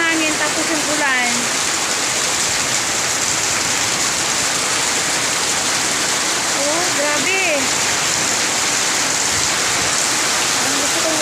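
Loud, steady downpour roaring with heavy wind in a rainy-season storm, a dense constant wash of rain; a person speaks briefly in Filipino over it.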